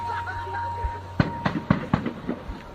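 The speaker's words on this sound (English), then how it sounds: "It sounds like multiple gunshots" Several sharp gunshots crack out in an irregular burst, one after another over a couple of seconds, loud and fairly close amid outdoor noise during a street protest.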